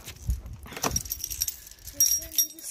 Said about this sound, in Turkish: Kapımı kilitleyeyim.